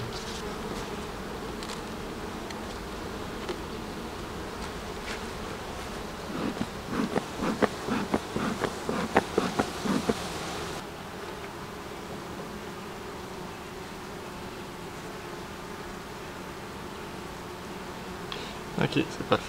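Honeybees swarm and buzz from an opened beehive, a continuous close drone with sharper passes around the microphone, punctuated by brief handling clicks and rustles of frames.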